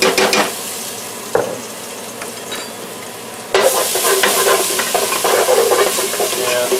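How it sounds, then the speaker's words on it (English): Garlic sizzling in a hot pan for jambalaya, a loud close frying hiss with stirring scrapes, and a sharp knock partway through. A burst of stronger sizzling follows as more goes into the pan, and it stays dense to the end. "Pretty much throw the garlic in, and then I'm just going to follow it right up with the vegetables."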